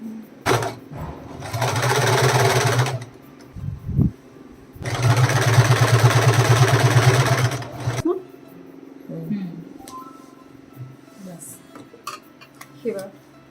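Electric sewing machine stitching a round-cut saree, two steady bursts of fast rhythmic whirring and clattering, each a few seconds long, separated by handling knocks, followed by someone talking over quiet fabric rustles.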